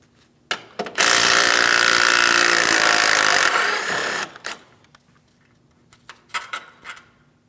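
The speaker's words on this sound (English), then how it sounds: "Let's fully remove this mounting bolt." An impact or power tool buzzes loudly for about three seconds while removing a front strut mounting bolt on a 2016-2025 Chevrolet Malibu, followed by scattered metallic clinks and taps of the bolt and tools.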